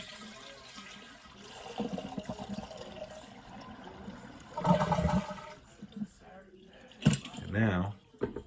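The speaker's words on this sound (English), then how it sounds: "but we'll flush the toilet." Trailer toilet being flushed during winterizing, with gurgling water and a sharp valve clunk near the end, close up over faint background noise and a voice talking earlier.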